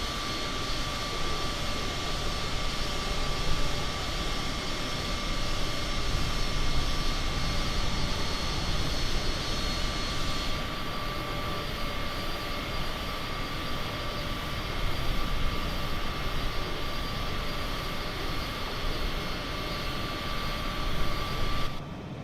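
A Cessna CJ4 jet cruises in flight in Microsoft Flight Simulator 2020, a steady, unbroken engine roar and airflow hiss holding at even loudness throughout with no talk.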